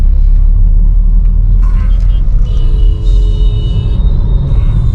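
Slow, congested road traffic backed up around a broken-down car, with a loud, continuous low engine rumble from nearby vehicles and a few faint higher tones.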